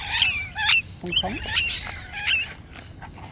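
Sharp cockatoo squawks and chirps ring out nearby, mixed with short spoken phrases.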